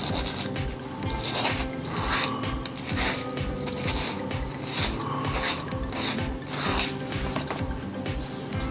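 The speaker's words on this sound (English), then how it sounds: "take the E10 and sand the inside of this hole to make it smooth" Sandpaper rasps against the inside of a hole in a wooden model kit part, a close, quiet scratching in repeated back-and-forth strokes of uneven rhythm, with no talking.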